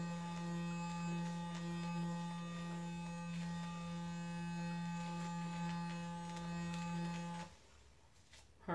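A Clarisonic Sonic Radiance facial cleansing brush buzzes steadily and close up for about seven seconds while cleaning a face, then cuts off, leaving quiet room tone.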